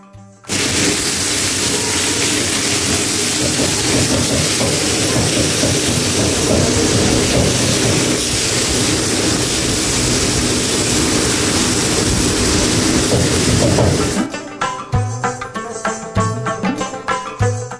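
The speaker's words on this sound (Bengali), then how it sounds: "মশলা মাখিয়ে গরম যে তাতানো তেল রয়েছে তাতে ছেড়ে দেওয়া হলো আমাদের মাছ" Loud, dense sizzling and crackling as spice-coated hilsa fish fries in hot oil, roaring without a break for about fourteen seconds. It then cuts off, leaving quieter scattered clinks and clatter.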